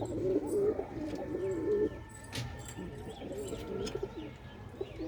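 Pigeons kept in an enclosure coo in low, repeated throaty phrases close by, with faint chirps and a soft voice in the background.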